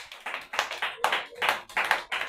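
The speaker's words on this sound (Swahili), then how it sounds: "So pigie Yesu makofi." Several people clap in a quick, uneven rhythm during a church sermon, bursts of hand claps close by with no voices.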